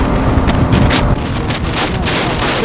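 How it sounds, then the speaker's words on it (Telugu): Loud, steady roar of wind buffeting the microphone during a fast Yamaha R15 V4 motorcycle ride, a continuous rushing blast with no pauses. "సడన్గా ఘోరం విండ్ బ్లాస్ట్ ఉంది"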